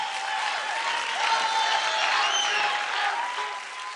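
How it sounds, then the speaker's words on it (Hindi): A studio audience on a televised dance competition applauds after a performance, giving loud, sustained clapping mixed with cheers and whistles that swells in the middle and eases slightly toward the end. "जोरदार ताली हो जाए"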